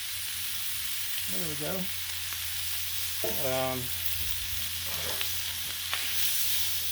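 A pound of Trader Joe's uncured bacon sizzles on a Blackstone griddle, a steady loud frying hiss throughout, with someone speaking briefly over it and a few light scraping clicks.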